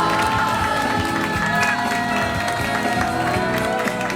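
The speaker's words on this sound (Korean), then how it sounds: "박수로 맞이해 주십시오." Audience at a civic rally in Uijeongbu claps and cheers as a speaker is welcomed to the stage, a dense continuous roar of applause with shouts and voices mixed in throughout.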